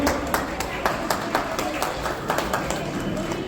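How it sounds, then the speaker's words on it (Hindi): Hands clap in a scattered, rhythmic patter at a community marriage conference in Ranchi as the audience welcomes Union Minister of State for Defence Sanjay Seth, moderately loud with some crowd noise behind. "आप सभी सौजातीय भाई बहनों से आग्रह है कि उनका जोरदार ताली बजाकर स्वागत करें"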